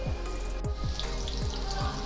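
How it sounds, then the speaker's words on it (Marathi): Chicken pieces fry in hot oil over a low-to-medium gas flame, giving a steady dense sizzle with a soft repeating low thump roughly every quarter second, close and continuous with no talk. "चिकनचे सर्व पीसेस आपण त्यावरती काढून घेऊया आणि अगदी लो ते मीडियम गॅसवरती आपण हे फ्राय करून घेऊया"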